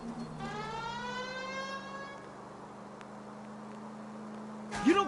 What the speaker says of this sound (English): You know, we might get there quicker if you use the siren